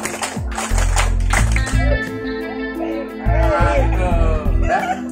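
A rhythmic clapping chant from a seated crowd at an outdoor community gathering by a fishing pond, with loud patterned claps in short bursts, amplified voices and music-like tones running underneath.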